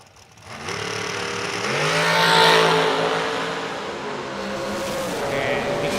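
Outlaw-series drag race cars, Greg Kaufman and Lester Johnson, launching down the strip at Huntsville: a loud engine roar swells and sweeps through a rising pitch, then fades slightly, steady and close without talk.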